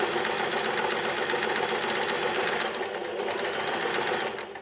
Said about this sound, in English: down the foot of the machine and stitch forward about 3 stitches, and then reverse stitch to where you started and continue going straight